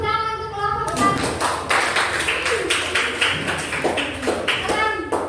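Children in an Indonesian primary school classroom clap in a quick, patterned rhythm for a group, loud and close, with young voices chanting and talking through the clapping after a brief spoken lead-in.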